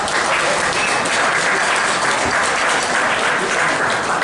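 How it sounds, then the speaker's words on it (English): Steady, dense applause from an audience at a 2018 Deschutes County Commission candidate debate, sustained and fairly loud throughout with no pauses. "So big round of applause for these two as well."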